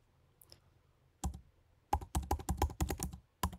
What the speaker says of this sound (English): The SMTP username, password, and server name are the same as for IMAP, so we will enter John Smith at icdtest.net